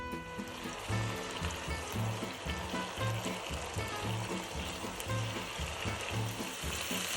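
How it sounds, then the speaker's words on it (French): Saffron risotto with mussels cooking in a pan while being stirred constantly, giving a steady close sizzle and bubbling with soft scraping; music plays underneath throughout. "À partir de maintenant, on va mélanger notre risotto en permanence."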